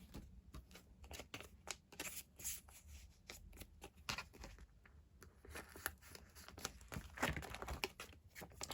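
Collectible photo cards being handled and sorted by hand, with soft repeated crinkles, taps and shuffling rustles close up, bursts of light card noise throughout with no talking.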